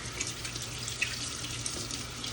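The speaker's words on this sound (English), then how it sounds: "we're going to wash our hands" A kitchen tap runs steadily while hands are washed before handling meat, a close, constant hiss of flowing water with faint splashes and drips and no talking.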